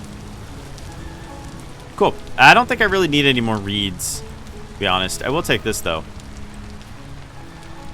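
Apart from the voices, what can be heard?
rain in the video game Vintage Story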